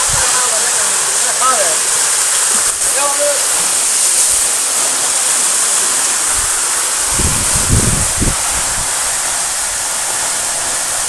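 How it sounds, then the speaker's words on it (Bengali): A waterfall in Sajek Valley, Bangladesh, in rain, giving a loud, steady broadband rush of falling water that fills the whole clip, with a few low thuds toward the end. "দেখেন সম্পূর্ণ ঝর্ণা"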